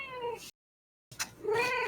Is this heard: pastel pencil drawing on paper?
no